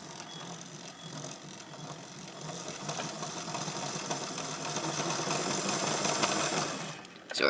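A Hornby 0-4-0 model steam locomotive runs with its wheels slipping, making a continuous fast mechanical whirring and gear chatter that rises slightly, then ends with a sharp clatter.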